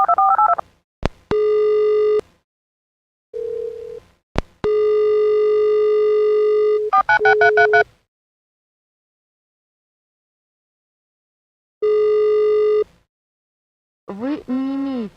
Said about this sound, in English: Dial-up sound effect.